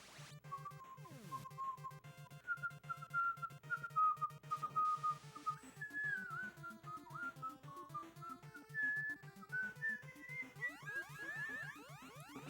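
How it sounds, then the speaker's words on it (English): A person whistles a wandering melody over a looping NES game soundtrack from Dragonball Z II: Gekishin Freeza. The whistle is clear and close, with held notes and slides, and no speech is heard. "I'm done with the whistling and all that jazz"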